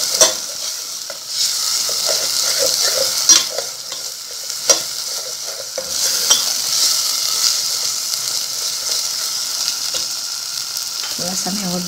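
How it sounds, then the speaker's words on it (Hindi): Achwani mixture roasting in a pan sizzles and fries steadily, with a spoon stirring and scraping in repeated clinks and bumps, close and continuous. "थोड़ा सा इसे हम पहले भूनेंगे।"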